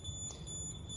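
An electronic detector near a static source gives a brief, faint high-pitched beep, its steady tone sitting over a low background hum.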